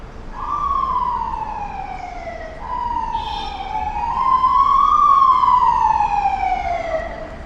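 A loud wailing ambulance siren rises and falls in long sweeps, close by, passing along Brighton Beach Avenue in Brooklyn with faint traffic rumble underneath.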